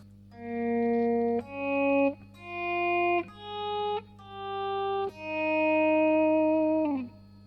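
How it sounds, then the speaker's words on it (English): Electric guitar notes with a volume swell effect from a Strymon Mobius pedal: each of about six notes fades in smoothly with no attack, sustains, then cuts off. "that kind of effect where the level increases and then stays up to a certain extent as you play the note"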